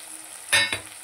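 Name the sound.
tomato, onion and spices frying in pan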